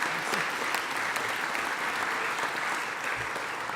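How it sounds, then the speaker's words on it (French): Steady applause from the audience at a town hall New Year's greetings ceremony in Arras, a dense, even wash of clapping sustained throughout with no voices on top. "Je vais vous demander de l'applaudir."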